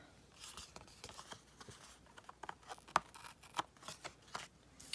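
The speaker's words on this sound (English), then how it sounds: "I'm just going to use my scissors to snip off the excess" Faint, quick snips of scissors cutting paper, with scattered soft rustles and crisp clicks spaced irregularly throughout.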